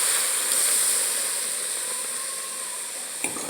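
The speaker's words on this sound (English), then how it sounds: "I'm going to add red wine" Red wine poured into a hot pot of onion soup with pork belly, a steady broadband sizzle and hiss that stays fairly constant and slowly eases, with a tiny clink near the end.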